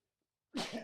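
A single short sneeze, sudden and fairly close, following a moment of near silence.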